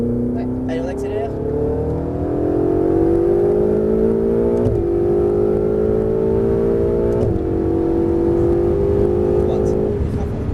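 A Ferrari 488 accelerating on the Castellet race circuit, its engine rising in pitch through repeated upshifts, loud and close from inside the car, with an instructor talking over it.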